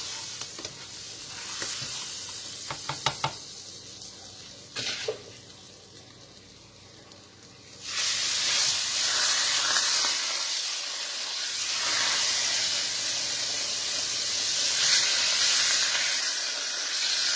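Salmon frying in a pan for a healthy salad, starting with a few clicks and clatters of handling, then after about eight seconds a loud steady sizzle and hiss that continues alone to the end.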